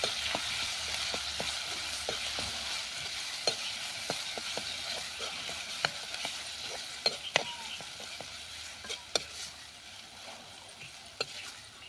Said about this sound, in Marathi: मसाला टाकून घेऊया मसाला तेलावरती आपल्याला चांगला परतून घ्यायचा आहे